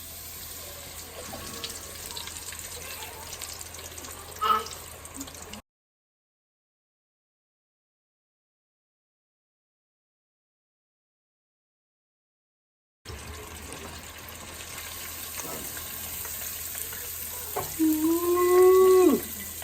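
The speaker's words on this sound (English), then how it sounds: "we're gonna start getting them into the fryer" Coconut-coated halibut nuggets sizzle in a deep fryer with a steady crackling hiss and faint pops, cut by a long silent gap before the frying resumes, with a brief high voiced exclamation near the end.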